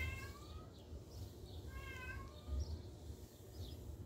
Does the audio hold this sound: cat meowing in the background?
yes